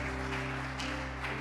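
A church congregation applauds in steady, even clapping through the whole stretch, fairly faint, over a low sustained musical hum.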